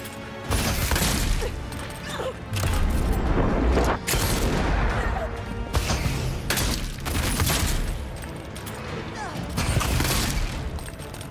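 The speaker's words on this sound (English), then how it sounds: "Just gonna keep casually shooting from the other room." Gunfire from a fantasy action game set in Avowed, repeated shots and booming impacts in dense volleys, with a voice talking in between.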